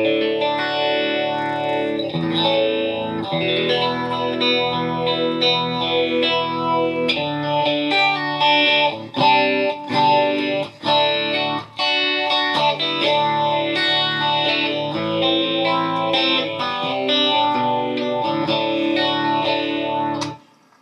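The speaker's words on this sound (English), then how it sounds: "Now I'm on the bridge single coil in the mid position single coil" An electric guitar on the bridge and middle single-coil pickups plays chords and melodic phrases with a slightly hollow, in-between tone, bright with light chorus shimmer, continuous and alone.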